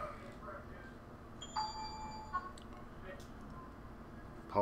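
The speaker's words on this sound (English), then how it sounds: "Apologize, my phone is not on silent" A mobile phone's notification chime rings out, a short tonal ding with a sustained ring, faint and close under quiet room noise and a voice.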